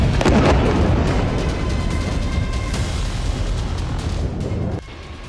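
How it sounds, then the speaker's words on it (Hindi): A loud, broadband blast rolls on in Gaza at dawn, with no voices over it, and it cuts off sharply near the end. "गाजा में सुबह की शुरुआत इस जोरदार धमाके से हुई।"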